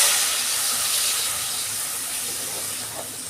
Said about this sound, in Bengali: আমি জল পরিমাণ মতো জল দিচ্ছি